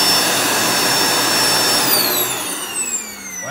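A faulty Dyson vacuum cleaner with a non-turning floor brush whines steadily with a high, rushing roar, then its pitch drops and the motor sound falters as it winds down.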